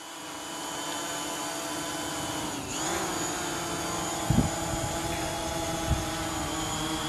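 A DJI Mavic Pro drone on Master Airscrew propellers hovers with a steady, close, high-pitched whine and buzz, its pitch sweeping briefly partway through, with a couple of soft thumps and no talking.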